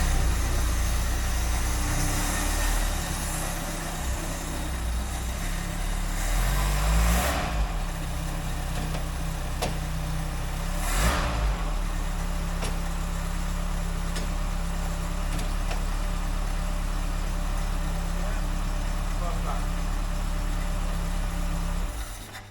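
Ford Cortina mk5 engine runs steadily for over twenty seconds with a low, continuous drone and a couple of brief revs, heard close and alone.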